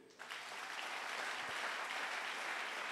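A church congregation applauds: dense, steady clapping from a large crowd that rises quickly after a brief quieter moment and holds at a constant level throughout.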